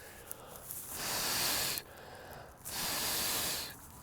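A person blowing hard on a log campfire outdoors, making two long breathy gusts of roaring hiss separated by a short pause, close and fairly loud, with no talk.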